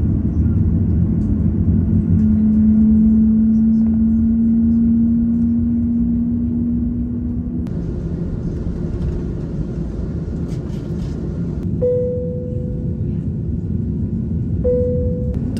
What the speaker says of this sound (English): Here comes takeoff, and a very impressive view of Heathrow and all its terminals.